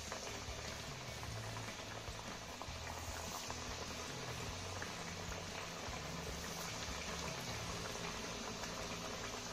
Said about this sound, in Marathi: आता अशाच पद्धतीने आपण सगळ्या चकल्या तळून घेऊया.